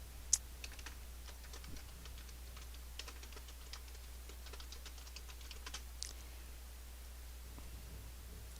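Quick, light clicking of keys on a computer keyboard, irregular bursts of taps close by and quiet over a faint steady hum, with no one talking.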